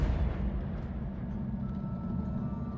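A Confringo fire spell blast in the Hogwarts Legacy video game, heard as a loud, low, rumbling explosion that stays heavy and sustained throughout with no talking.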